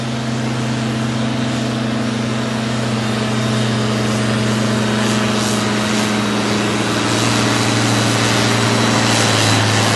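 An Oliver 1755 pulling tractor runs steadily at a pull event in Langford, New York, its engine a loud, constant drone with a strong low hum throughout, no speech over it.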